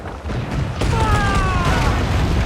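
Cannon fire from a sailing ship in Assassin's Creed IV Black Flag: a heavy boom surges in, then a sustained roaring blast with a whistling tone through the middle, loud over a constant low rumble.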